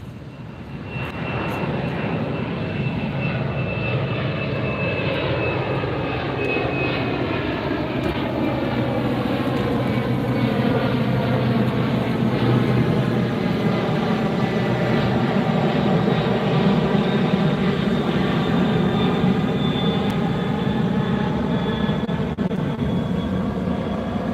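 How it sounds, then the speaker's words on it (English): A FedEx cargo jet passes low over the beach by LAX, a loud, sustained engine roar with a whining tone that sweeps downward as it flies overhead, steady throughout with no talking. "Deja vu! It's back-to-back FedEx planes."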